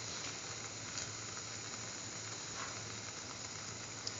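A chickpea tomato chili French toast sandwich fries quietly in a pan, a faint, steady sizzle and hiss running continuously with no voices.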